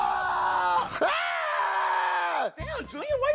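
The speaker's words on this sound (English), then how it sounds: "why are you screaming like that?" A person lets out a long, loud, strained scream that rises and holds for about two seconds, followed by shorter wavering yells and groans.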